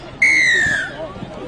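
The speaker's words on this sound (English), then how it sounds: "Referee Nick Inuit blows the whistle again." A referee's whistle sounds once at a Queensland Murri Carnival rugby league match. The shrill, steady blast lasts under a second over a low crowd murmur.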